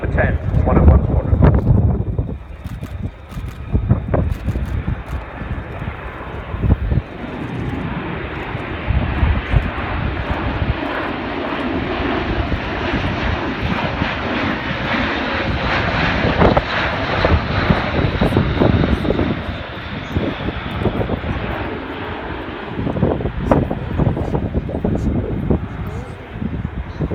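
An Airbus A400M military transport flies a display at the RAF Fairford air show, its turboprop engines roaring and building to a sustained loud drone, with an announcer speaking over it throughout.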